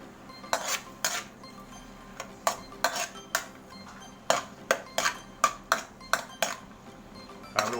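A metal utensil stirs garlic, onion and shrimp paste in a cooking pan for Bicol Express, sharp scraping clinks repeating in an irregular rhythm, close and clear with no talk.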